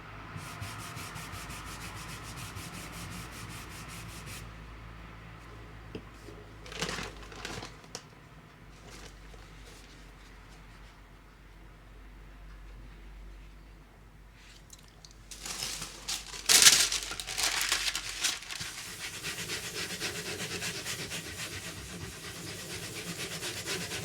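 Paper rubbed over an inked block while a Japanese woodblock print is pulled, a soft continuous scraping hiss with louder bursts of rubbing now and then, close and without talk.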